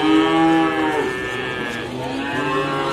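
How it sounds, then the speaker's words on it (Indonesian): Cattle at the Sukorejo livestock market in Kendal, with one loud, close, drawn-out moo sliding downward over a few seconds and another cow lowing softly nearby. "Kemudian di sebelah sini ada sapi-sapi betina di Pasar Iwan Sukorjo Kabupaten Kendal."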